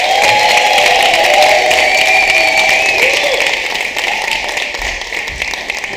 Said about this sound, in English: A big round of applause for all the performers.